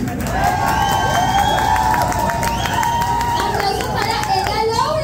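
Crowd at a drag queen competition night cheers and applauds for a drag performer, loud shouts and excited voices layered over clapping and background music, continuous and energetic.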